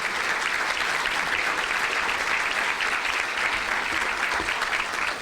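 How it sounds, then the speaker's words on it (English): A breakfast-event audience at a chamber of commerce gathering gives a steady round of applause, a loud, dense and continuous patter of many hands with no talking over it. "let's have a round of applause to recognize them for the time and energy that they're putting in this event"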